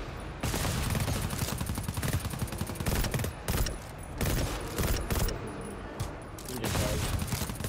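Rifle gunfire in a video game rings out as a dense, loud volley of rapid shots, continuing almost without pause and swelling in a few heavier surges.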